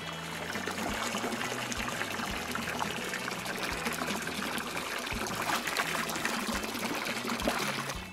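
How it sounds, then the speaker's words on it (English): Water pours steadily over a toy during a final rinse, a constant close splashing trickle that runs the whole time without a break, with no voices. "Do one final rinse."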